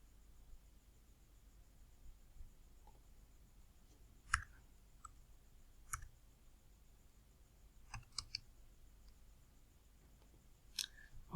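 A computer mouse clicks several times at an uneven pace. The clicks are sharp, close and quiet, with near silence and faint background noise between them.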